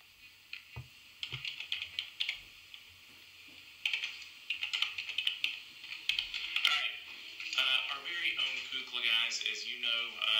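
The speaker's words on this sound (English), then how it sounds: "I've got to do a little bit of typing as I do this one" Rapid clicking of keys on a computer keyboard, close and fairly loud, in irregular bursts that run steadily through the clip with a little background noise.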